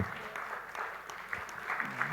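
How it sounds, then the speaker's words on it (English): Audience applause at a panel session on policy, infrastructure and financial inclusion, a brief burst of steady clapping from a seated crowd. "Then please give them a standing ovation."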